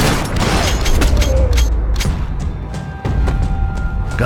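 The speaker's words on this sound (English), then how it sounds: "Gunfire over Hoboken." Gunfire in the Max Payne 3 video game, a scatter of sharp shots and booms cracking irregularly over rumbling background noise and clanking mechanisms.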